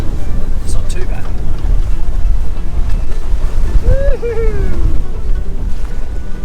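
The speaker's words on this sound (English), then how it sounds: "being out in this kind of conditions with quite big waves and it's still fairly windy" A sailboat pushes through big waves in strong wind, with loud, close wind rush over the microphone and the wash of water around the hull, plus a brief whistling tone partway through.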